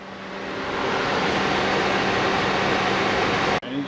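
A 2007 Toyota Prius engine runs with a steady, loud broadband drone and a faint tonal hum, then cuts off abruptly near the end.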